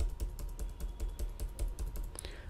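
Computer keyboard keys are pressed in a quick, steady series of soft clicks, close and fairly quiet, with no talking.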